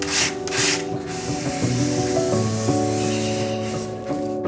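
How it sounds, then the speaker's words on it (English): A wooden fold-down dining table in a bus conversion being wiped down with mineral spirits, heard as continuous close rubbing strokes with a few breathy swishes, under a steady musical tone bed and with no speech. "Gave it a quick vacuum to remove any sawdust, and then cleaned it down with mineral spirits."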